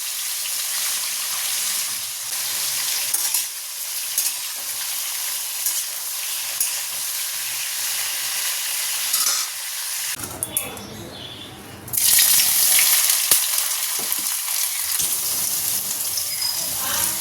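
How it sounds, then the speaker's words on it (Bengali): A large fish frying in a pan, a loud continuous sizzle and crackle with stirring, briefly interrupted by a watery gush before the sizzling returns stronger. "এবার এটাকে ভালো করে ভেজে নেব।"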